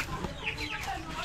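Chickens cluck at a farm poultry house in Nueva Ecija, a busy, continuous flock murmur of overlapping clucks at moderate distance with faint background noise.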